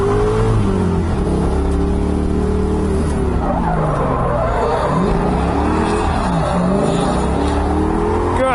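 LS V8-swapped Mazda Miata driving laps on a skid pad, engine droning and revving continuously with loud tire squeal and skidding throughout, close and steady with no talk.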